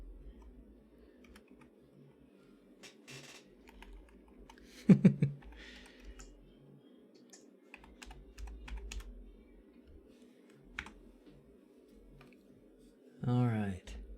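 Computer keyboard typing in short clicking bursts during a tech setup session with a Wi-Fi dongle, with a louder flurry of keystrokes midway and another near the end, mixed with a low background hum and some talking.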